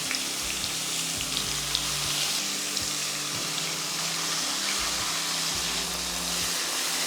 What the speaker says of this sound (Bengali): পেঁয়াজ কষিয়ে নিন যতক্ষণ না হালকা রং ধরতে শুরু করবে।